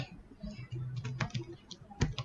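Someone types on a computer keyboard, a quick run of close clicking keystrokes with a low voice murmuring underneath.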